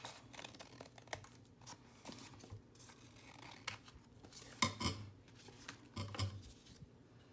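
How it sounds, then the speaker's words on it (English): Scissors snip through scrap paper for Christmas journaling cards, a few quiet, separate cuts with rustling and handling sounds between them, close and soft in a quiet room. "So I'm just going to cut this part."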